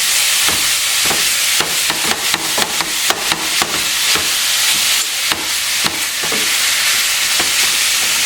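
Grass-finished ground beef crumbles and fries in a pan with a loud, steady sizzle, broken by repeated scraping strokes of a utensil breaking up the meat.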